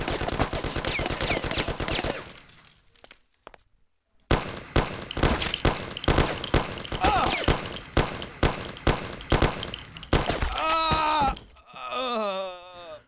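Rapid gunfire from a mafia video game, dense bursts of shots filling the opening seconds, a brief lull, then steady repeated shooting with sharp reports, ending in warbling tonal game sounds.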